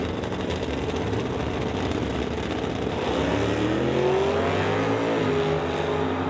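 A 1984 S10 pickup and the Malfunction Acadian launch at a drag strip, a loud engine roar swelling and rising in pitch as the cars accelerate hard away, steady and continuous with no talk.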